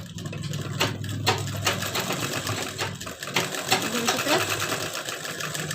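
A sewing machine stitches the body seams of an embroidered belt blouse, its needle chattering steadily and close while someone talks throughout.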